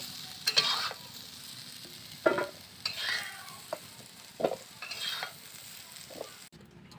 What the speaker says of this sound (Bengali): এবার হালকা করে ভেজে নেব আলুগুলোকে